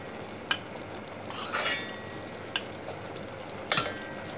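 Starch and reducing meat juice stirred together for a morel sauce, a soft scraping stir with a few sharp spoon taps and a brief sizzle, fairly quiet with no talk.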